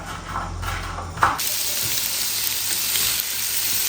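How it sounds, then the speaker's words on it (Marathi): Paneer sautéing in a pan sets off a dense, bright hiss that swells after a brief clatter at the start and then holds steady and close, with no talking. "पनीर अगोदर मी परतून घेते"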